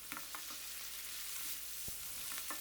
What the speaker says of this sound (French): Je continue à sauter.